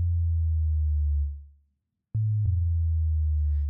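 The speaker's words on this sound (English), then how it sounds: "Let me go ahead and solo that sub there." A soloed sub bass, tuned to reggaeton tom hits, plays low sustained sine-like notes: one long note fades out, then after a short silence a brief low hit and another sustained low note follow, alone and clean.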